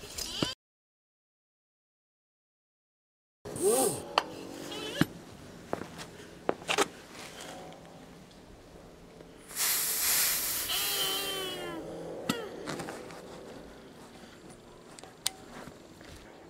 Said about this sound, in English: I did manage to fill it okay with the pump